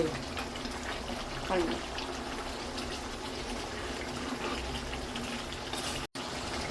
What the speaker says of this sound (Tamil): எப்படி கொதிக்குது பார்த்தீங்களா?